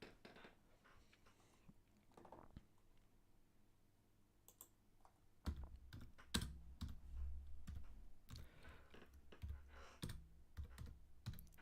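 Keys clatter on a computer keyboard, sparse quiet taps at first, then a quicker, louder burst of close typing with irregular clicks.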